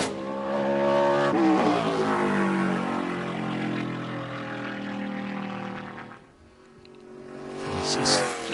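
Roaring engine of a NASCAR Craftsman Truck on a qualifying lap at IRP, loud and sustained with shifting pitch as it passes, dipping briefly before swelling again, with a commentator talking over it.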